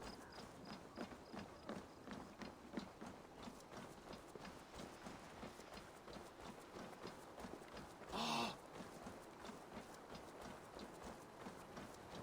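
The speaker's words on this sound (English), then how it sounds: "Everybody recognizes my skeleton horse" Skeleton horse from Assassin's Creed Valhalla walking with a steady, soft clip-clop of hooves throughout, set in a busy game soundscape with a brief louder burst partway through.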